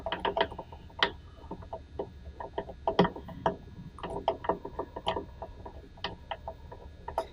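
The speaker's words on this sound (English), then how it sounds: "make sure you get a good peg winder. There's winding, winding, winding, winding." A peg winder turning an acoustic guitar tuning peg while a string is wound on, giving a run of quick ratchety clicks and small mechanical ticks in an uneven rhythm, close and moderately quiet with no talking.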